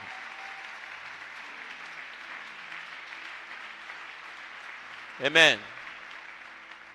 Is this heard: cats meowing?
no